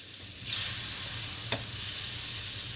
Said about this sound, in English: we got our butter and our wok. So we're going to go ahead and let this melt down a little bit